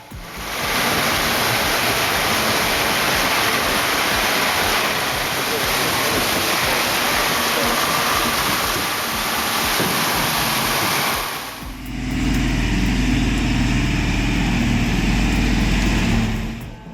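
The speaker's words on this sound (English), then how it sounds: "Look at the Kamaz truck, loaded with large logs, powered by a modern diesel engine that allows it to easily wade through the river" A loaded Kamaz log truck with a modern diesel engine wades through a river, with loud rushing, splashing water that gives way to a deep, heavy engine rumble under the churning flow.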